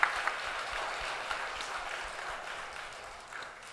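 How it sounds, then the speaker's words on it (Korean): Applause from a church audience at a sermon concert, steady and moderately loud, a dense wash of clapping that holds for several seconds. "우리 감사의 박수를 드리겠습니다"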